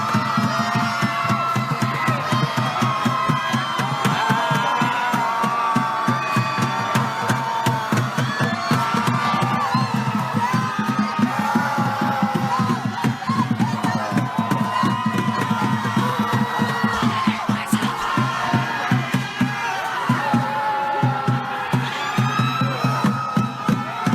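A large crowd of people screams and shouts together in a dense, continuous roar of voices that stays loud and unbroken throughout.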